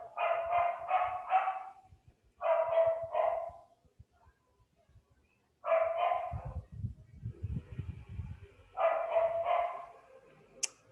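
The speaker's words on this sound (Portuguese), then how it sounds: "Hoje o cachorro aqui tá..." A dog barks in four rapid clusters of three or four sharp barks each, fairly close and separated by pauses, with low thumping rumbles in one gap.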